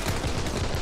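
Dense burst of gunfire from a Desert Eagle pistol in the survival game Sunkenland, loud and continuous throughout, with rapid reports blurring together.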